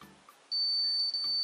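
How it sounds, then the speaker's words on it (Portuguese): A wall scanner detector emits a single high-pitched electronic beep steadily for about a second over a quiet background, then stops, with faint handling noise. "onde ele faz esse bip para mostrar que ele detectou alguma coisa"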